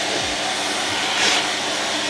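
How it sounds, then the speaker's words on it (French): A vacuum cleaner with a brush attachment runs steadily while cleaning a PC tower, a loud, continuous whine with a slight swell midway as the brush moves over the case. "bien passer un coup de pinceau avec l'aspirateur"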